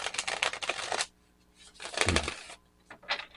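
Tarot cards riffled and shuffled by hand in two bursts of crisp, rapid flutter separated by a short pause, close and fairly quiet.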